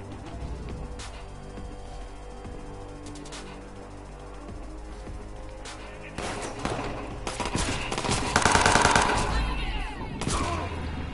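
Gunfire in Watch Dogs 2, rapid bursts of shots over a steady game background that grow louder and denser midway, with faint talking in places.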